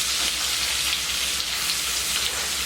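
Steak frying in butter in a hot pan, a loud, dense, continuous close-up sizzle with a crackling hiss and no talk.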